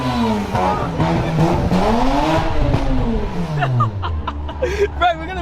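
A Nissan R32 GTS-T with a decat exhaust revs hard on a night street lap, its loud engine note rising and falling through gear changes, with people talking and laughing over it close by.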